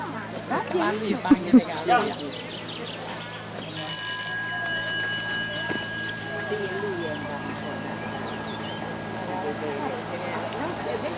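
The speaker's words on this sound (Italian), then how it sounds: "aspetta il suono della campana" At an equestrian show-jumping event, a bright bell rings once and its tone lingers and fades, heard after and beneath people talking nearby.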